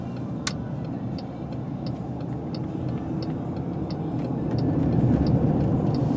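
A car cruises along an interstate highway at night, with a steady, moderate rumble of road and engine noise throughout and faint regular ticking over it.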